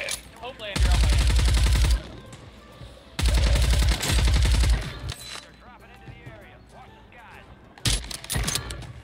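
Close-range automatic weapon fire in the battle royale shooter Warzone: several loud, rapid bursts, each lasting about a second, separated by short pauses, with excited voices talking between and over the shots.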